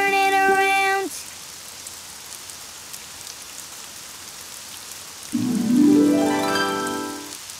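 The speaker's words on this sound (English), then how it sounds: "Oh, it's raining outside." Steady rain hisses throughout in the children's game Daniel Tiger's Neighborhood, framed by synthetic tones: a chime at the start and a rising electronic sweep near the end.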